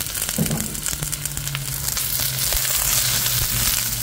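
Snow peas fry with onion in a hot pan for a stir fry, giving a steady loud sizzle and crackle close by, with a brief splash of water early on and faint stirring scrapes throughout.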